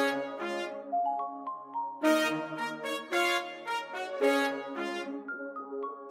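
A beat section built from pitched-down, chopped and reversed violin staccatos: short bowed stabs and sustained chords at changing pitches, starting and stopping in a choppy, uneven rhythm, with no voices.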